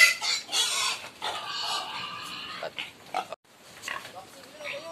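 A sow and her grown piglets grunt and squeal in their new pen, close and loud in uneven bursts, with hens clucking nearby and a person talking over them.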